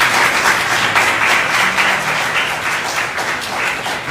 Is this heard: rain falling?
no